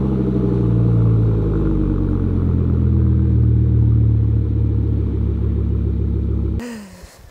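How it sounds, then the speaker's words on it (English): An Audi RS6 with a 700 hp V10 and modified exhaust idles and burbles with a deep, loud rumble close by, a steady throaty drone that cuts off sharply near the end. "So a lot more burble, and yeah, you'll hear that in this video of course as well."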